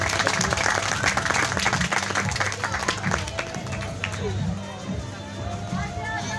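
Clapping breaks out as the groom is garlanded at a wedding, with crowd chatter and voices mixed in and a music beat underneath, the applause thinning after a few seconds.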